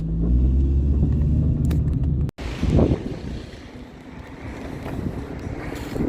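Heavy wind buffets a microphone outdoors, a loud steady low rumble with gusty surges and a brief dropout partway through.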